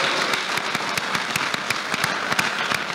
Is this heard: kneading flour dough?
no